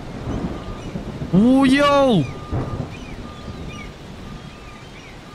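Steady rain hisses with a low rumble in the video game Far From Land while a boat is docked, as someone shouts an excited exclamation over it.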